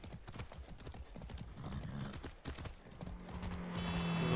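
Horse hooves clip-clop in a steady galloping rhythm while riding in the video game Far Cry 6, close and moderately loud, with a brief whinny and rising ambient game sound toward the end.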